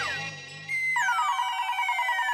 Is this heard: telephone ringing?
yes